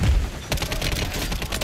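Rapid bursts of automatic gunfire from a Call of Duty multiplayer match, loud and close, with a sharp volley at the start and sustained crackling shots through the rest.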